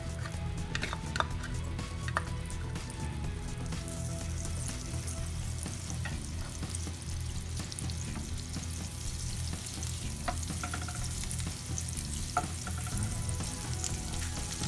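Butter sizzles in a frying pan while cooking kinamatisang daing, a steady close crackle with occasional stirring clicks and scrapes throughout.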